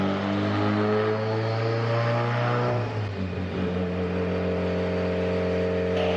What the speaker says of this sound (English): I was blipping the throttle quite a bit to try to adjust the tip-in